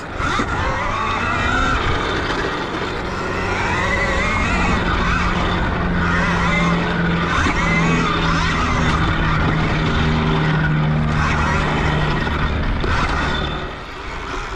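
A KTM Freeride EXC electric dirt bike rides a supercross track, a continuous loud whirring motor whine rising and falling with throttle, plus tyre and dirt noise, no talking.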